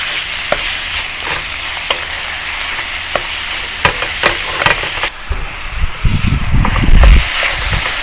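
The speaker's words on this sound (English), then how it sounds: "now add the beef. Combine and continue cook for another 5 minutes" Beef dropped into browned onions for a masala curry, a steady close sizzle with regular spatula taps and scrapes, then rougher rumbling stirring and louder bubbling toward the end, with no speech.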